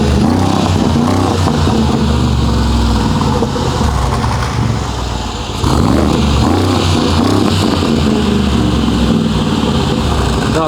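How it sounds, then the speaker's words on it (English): A heavily modified Mercedes G-Wagon engine rumbles loud and close, a deep steady idle with throttle blips, easing briefly around five seconds before the roar resumes. "this G-Wagon purrs beautifully. Not too loud and not over the top"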